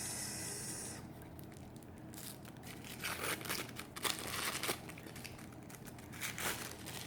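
Black tissue paper wrapped around a deck of Kipper fortune-telling cards is unfolded and handled close up, giving a soft, irregular crinkling and rustling that comes in quiet bursts.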